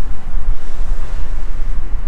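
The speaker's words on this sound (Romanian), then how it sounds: "bate vântul, începe să bată" Strong wind blows in gusts outdoors at a gas station on the road to Ushuaia in Patagonia, buffeting the microphone with loud, rumbling roars.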